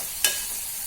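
Ginger garlic paste dropping into a pan of softened tomatoes for a chicken liver masala, giving one brief hissing burst that trails into a steady low sizzle, heard alone without speech.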